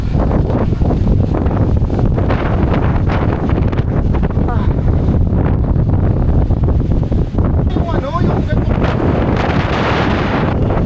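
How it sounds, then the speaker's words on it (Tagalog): Loud, gusty wind buffets the microphone continuously at Dingalan, Aurora, a heavy rumbling roar with faint water and voice sounds underneath. "Grabe, napakalakas ng hangin."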